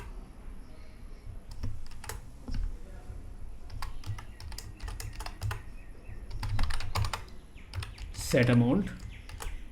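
Computer keyboard keys clack in quick irregular bursts while code is typed, close and clear, with someone speaking briefly over the typing.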